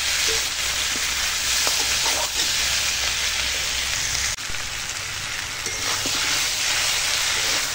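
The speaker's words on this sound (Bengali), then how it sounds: "তো দেখো মশলার সঙ্গে আনাজটা এখন কষাচ্ছি।" Pumpkin pieces sautéing with spices in a pan with little oil give a loud, steady sizzle and crackle, with a few soft stirring scrapes and no talking.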